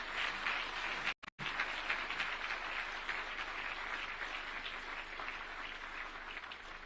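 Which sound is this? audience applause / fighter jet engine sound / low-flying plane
audience applause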